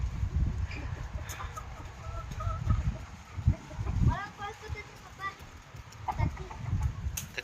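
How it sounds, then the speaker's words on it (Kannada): Chickens in a village cluck and squawk close by as they are let out of their coop, with scattered bird calls over shuffling and handling noise, and people talk throughout. "ಎಲ್ಲಾ ಕೋಳಿಗಳನ್ನ ಹೊರಗೆ ಬಿಡಾಕತ್ತಾಳ ನೋಡ್ರಿ"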